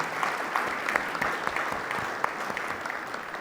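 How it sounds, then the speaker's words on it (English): Sustained clapping from an audience at a Columbus Metropolitan Club forum, a steady moderate patter with a few sharper close claps popping out. "Round of applause for the Black women that attended the event today"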